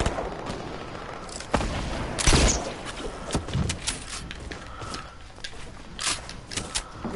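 Gunfire in the video game Grill Sergeant: scattered sharp shots and booming blasts at irregular intervals, some close and loud, others lighter, over a busy in-game background with no talk.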